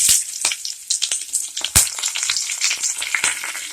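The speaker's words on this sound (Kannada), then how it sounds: "ಸಾಸಿವೆ ಜೀರಿಗೆನ ಹಾಕ್ತಾಯಿದ್ದೀನಿ" Mustard seeds and cumin sizzling in hot oil for tempering a North Karnataka greens dish, close crackling with sharp irregular pops and spitting bursts over a soft sizzle.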